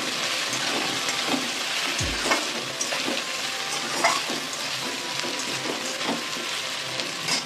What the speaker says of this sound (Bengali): এবার পটল কটাও দিয়ে দিলাম